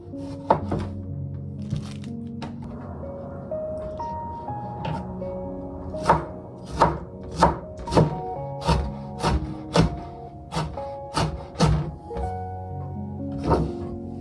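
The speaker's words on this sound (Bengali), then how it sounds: "সালাদ কাটার জন্য আমি এখানে টমেটো নিয়ে নিয়েছি এখন কেটে নেব" A knife chops tomatoes for salad on a board in a home kitchen, a run of about a dozen crisp, evenly spaced thunks after a few scattered taps, close and moderately quiet.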